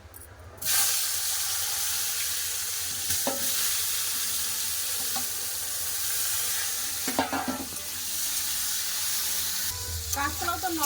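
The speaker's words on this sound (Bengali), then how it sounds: "কড়াই তেল আছে কাঁচকলা আলু ভেজে নেবো" Raw banana and potato pieces frying in hot oil in a wok, giving a continuous close sizzle broken by a few scraping stirs and clinks near the end.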